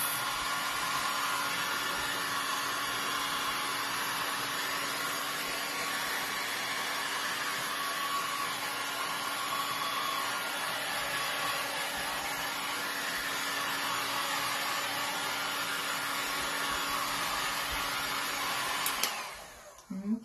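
A heat drying tool blows steadily on a painted thrift-store project, a loud, constant whooshing drone that holds for about nineteen seconds before cutting off abruptly.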